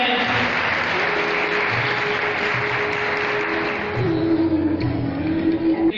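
Sustained applause from a gurukul audience of students at a school function, a steady, even roar of many hands clapping with a faint tonal hum running beneath it.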